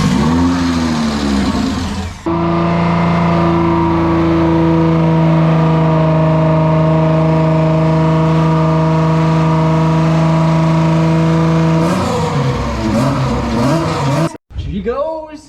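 A Suicid3 MX3 being converted to flex fuel cranks over, then catches and holds a steady, loud idle with strong harmonic drone for about ten seconds before cutting out, with people talking nearby.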